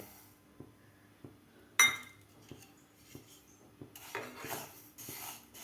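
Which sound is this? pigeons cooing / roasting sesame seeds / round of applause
roasting sesame seeds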